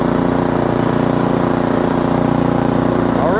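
An Ariens Platinum 24 SHO snowblower engine runs in gear as the machine is driven. Its loud, close, steady motor drone holds at an even pitch with no talking.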